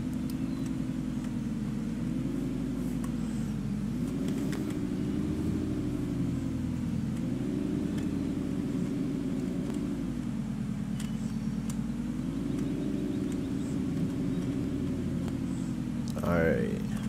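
A truck engine in Farming Simulator 15 drones steadily while backing up on a lawn-care job, its pitch gently rising and falling in slow waves, with a brief higher sound near the end.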